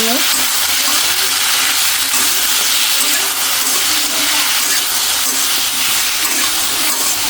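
Vegetables with salt sautéing in a pan: a loud, dense, continuous hiss and sizzle fills the whole stretch, steady and close, with faint stirring beneath it.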